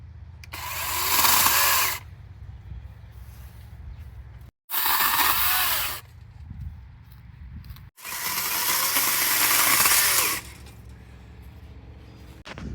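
Baikemon brushless electric chainsaw with a 16-inch Oregon bar, run on its low setting, cuts through branches in three loud, buzzing bursts lasting a few seconds each, with a quieter idle hum and short gaps between cuts.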